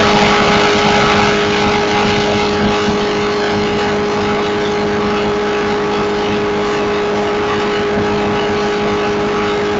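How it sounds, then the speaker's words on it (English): A Corvette ZR-1 race car speeding down the Battle Mountain desert highway at near top speed, a loud, sustained engine roar with a steady high drone that holds constant throughout. "Michelle Doria and her Corvette goes blowing down the Battle Mountain Road"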